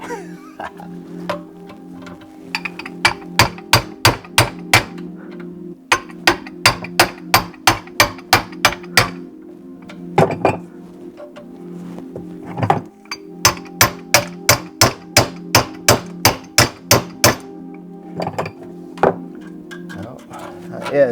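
A plumber's hammer strikes repeatedly while a garbage disposal is installed under a sink, coming in several quick runs of sharp metallic blows against a steady low hum.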